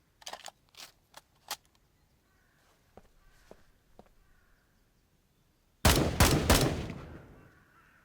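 Unsuppressed rifle gunfire in Ground Branch: a loud, close burst of three or four sharp shots with a decaying echo tail, preceded by quieter clicks and handling sounds.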